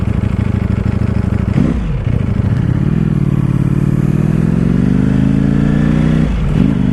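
A Ducati Panigale V4 or V2 sportbike engine revs loud and close, its pitch swelling and dropping sharply twice as an abrupt clutch engages, with a steady throaty drone between the surges.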